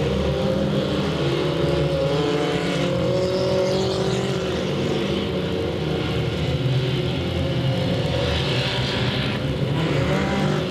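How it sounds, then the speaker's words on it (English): Race trucks roaring around the Delta Speedway oval, a dense, continuous loud engine drone from several trucks racing close together, rising and falling without pause. "He's being challenged by the number 7 truck, Joe Cambra."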